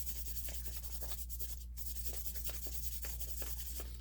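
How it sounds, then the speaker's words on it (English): Steady, rhythmic dry sanding of a silver ring made from a quarter, sandpaper rubbing back and forth in short repeated strokes, close and fairly quiet, with no talking. "dry sanding, and we're going to make sure that we take out any really rough stuff"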